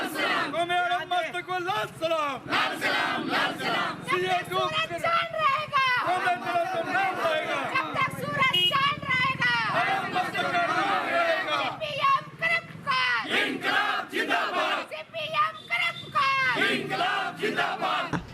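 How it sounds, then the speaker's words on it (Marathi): Workers celebrate with gulal outside the CPM office in Dattanagar, Solapur, their crowd shouting and cheering in loud, continuous chanting voices that rise and fall throughout. "दत्तनगर येथील CPM कार्यालयासमोर कामगारांनी गुलाल उधळून जल्लोष साजरा केला"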